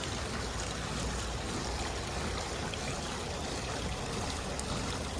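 Steady rushing and trickling of water pushed through a garden hose, forcing air out, a continuous broadband hiss at moderate level with no talk.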